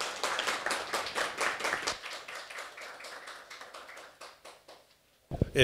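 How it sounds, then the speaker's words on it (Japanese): A small audience claps to welcome a lecturer at a Japanese talk on kotodama, the spirit of words. The individual claps are distinct, thin out and fade toward silence, then a voice begins at the end. "拍手でお迎えください"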